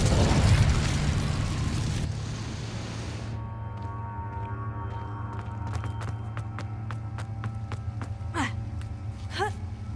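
A fire spell bursts with a loud whooshing blast in Hogwarts Legacy, played on Xbox Series X, its roar fading after two seconds into a steady low hum with scattered clicks and brief rising magical chimes.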